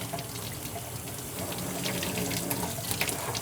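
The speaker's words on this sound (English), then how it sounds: "I'm just going to rinse the salt off as best I can here first." Lukewarm tap water runs into a sink, rinsing packed salt off sausage casings, a steady close splashing gush with small irregular spatters as the casings are moved under the stream.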